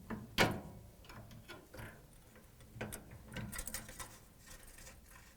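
Flathead screwdriver prying wire connectors off a Whirlpool/KitchenAid/Maytag W10815373 water inlet valve: one sharp close click early, then scattered small plastic clicks, taps and scrapes.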